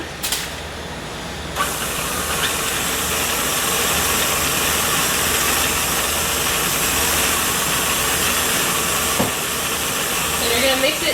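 An electric mixer whirs steadily as eggs are beaten into chocolate chip cookie dough, a continuous, fairly loud motorized hum with a hissing edge that runs the whole length with little change.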